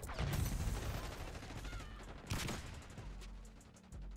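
Gunfire in the Black Ops 6 video game, a burst of rapid shots followed by scattered sharp cracks and clicks at moderate volume, with a second louder volley midway.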